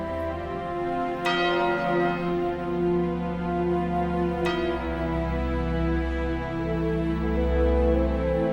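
Church bells peal during a Holy Week Gloria celebration in the streets of Abarán, with clay pots smashed and firecrackers nearby; dense, continuous bell tones ring over a steady rumble, with two sharp strikes standing out.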